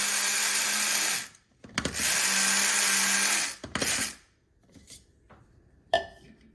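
A grinder milling golden flax seeds into flour for waffles, whirring loudly in two long bursts with a brief pause between, then a shorter final burst that cuts off, leaving scrapes and clatter.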